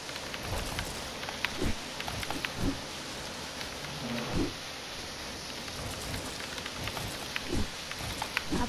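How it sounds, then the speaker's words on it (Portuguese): Rain falling steadily during a storm, a continuous diffuse patter recorded indoors at low level, with occasional soft low thumps and rumbles scattered through it and no voices. "se vocês estão ouvindo esse barulho de chuva, tudo, porque a minha cidade está chovendo"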